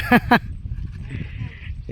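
Two quick, close bleats from goats in a row, followed by quieter farmyard background.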